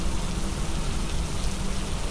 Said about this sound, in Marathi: पाऊस मात्र चांगलाच बरसत होता.